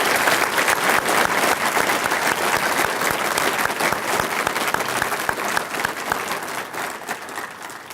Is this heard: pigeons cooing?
no